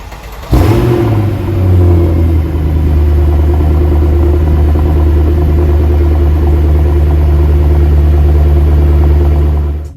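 A Mercedes E63 AMG W211 V8 cranks and fires after a brief silence, flaring with a sharp rev, then settling into a deep, steady, loud idle burble that holds to the end with no talking.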